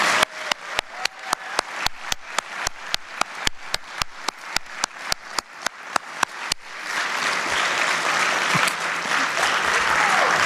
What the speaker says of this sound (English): let's have one more round of applause for these gentlemen.